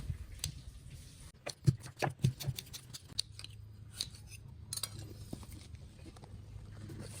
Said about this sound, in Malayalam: നമുക്ക് ഇതൊക്കെ ഒന്ന് ചെറുതായി കട്ട് ചെയ്തെടുക്കാം അതേപോലെ കനം കുറച്ചിത് അരിഞ്ഞെടുക്കാം